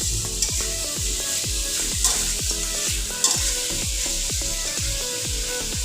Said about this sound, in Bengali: শিমের জলটা শুকিয়ে এসছে এবং মশলাটাও সুন্দর ভাজা ভাজা হয়ে গেছে।